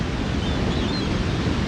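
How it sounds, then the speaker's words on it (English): Ocean waves wash in as a steady, dense broadband roar, continuous and fairly loud for the whole stretch with no distinct individual breakers, during a morning outdoor stretching session by the sea. "The sounds of the ocean."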